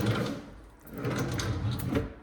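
Kitchen drawer in a Chesterfield, Virginia ranch home pulled open and pushed shut without a soft-close mechanism, giving a close wooden slide and clunk across a couple of seconds at moderate volume.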